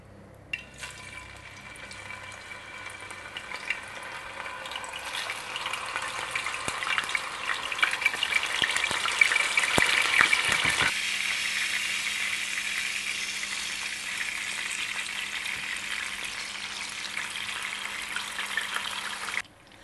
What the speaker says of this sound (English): you want to be really careful when you're putting down your tostones into the hot oil